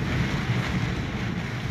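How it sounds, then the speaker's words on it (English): Hurricane Dorian's wind and floodwater batter a house in the Bahamas, heard from its rear stairs: a steady, close roar of gusting wind and churning, surging water with buffeting microphone noise and no voices. "you can see there from our rear stairs how the water is just battering because you got the wind and the water together"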